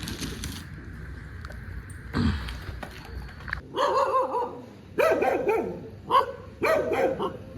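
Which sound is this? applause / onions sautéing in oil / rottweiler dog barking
rottweiler dog barking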